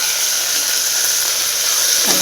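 Fenugreek and coriander leaves frying in a pan give a steady, close sizzling hiss that holds evenly throughout.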